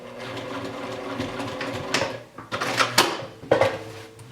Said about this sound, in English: stay stitching my two circle pieces together, just by sewing them all the way around at a 1/4 inch seam allowance